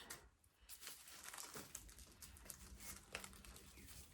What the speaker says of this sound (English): I'm always so bad at opening these without ripping the tissue paper